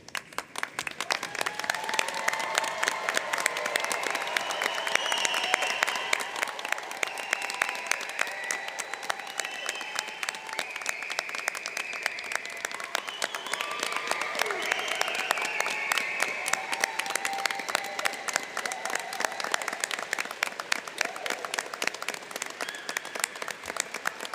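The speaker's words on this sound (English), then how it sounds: "we're going to give a great big huge applause to all of these graduates" A large audience at a certificate ceremony applauds graduates in long, continuous clapping that holds a fairly even, moderate level from start to finish, with no talk on top.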